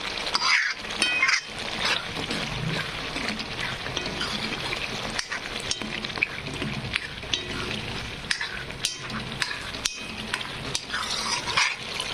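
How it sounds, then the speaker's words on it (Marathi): Spices fry and sizzle in oil in a pan for chana dal amti, a continuous crackling hiss broken by frequent spoon scrapes and metallic clinks of stirring. "मसाले फ्राय होत आहेत"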